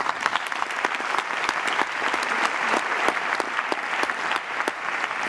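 Audience applause at an entrepreneurs' awards evening honoring prize winners, steady moderate clapping with distinct individual claps audible throughout, no voices over it.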